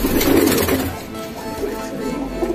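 A mated pair of pigeons coos close by in a low, throaty rolling call, loud and continuous with a slight swell and dip, with no talk over it.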